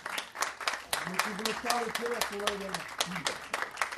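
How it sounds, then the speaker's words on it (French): Audience applauding a prince at a Napoleon festival lecture, lively clapping from a crowd heard under a voice speaking over it. "Vous pouvez applaudir très fort."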